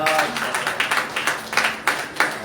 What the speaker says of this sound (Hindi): ताली बजाओ भाई, ताली बजाओ